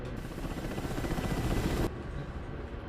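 Mi-24 helicopter in the DCS World flight game, a loud, dense rotor and turbine roar that holds steady and then drops abruptly to a quieter, duller drone, with no speech.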